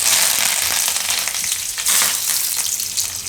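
Curry leaves hit hot oil alongside cumin and asafoetida for Gujarati besan bhurji, setting off a loud, dense, continuous sizzle and crackle that stays close and unbroken throughout.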